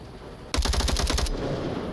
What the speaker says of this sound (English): Rival getting shots out towards JB.